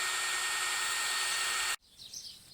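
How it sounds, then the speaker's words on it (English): A power drill whirs loudly and steadily, boring continuously into a tree trunk, then cuts off abruptly, leaving quieter outdoor ambience with faint birdsong. "we're just going to drill our first hole now"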